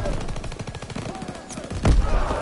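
A grenade blast in a Call of Duty zombies game, a loud low boom near the end following a stretch of rapid gunfire, with a player's voice talking over the action.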